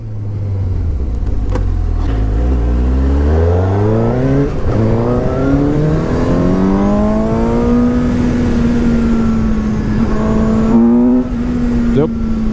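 A 2017 Suzuki GSX-S750 motorcycle engine revs hard and climbs in pitch through the gears, loud and close, with the rising whine holding near the top end.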